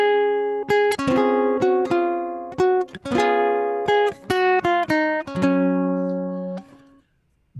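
A ukulele plays a single-note melody line, plucked notes ringing one after another in an unhurried rhythm, close and clear with no accompaniment or talking, the last note fading out.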